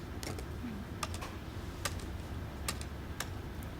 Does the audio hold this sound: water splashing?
no